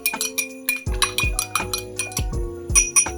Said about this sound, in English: We're going to also give this another stir.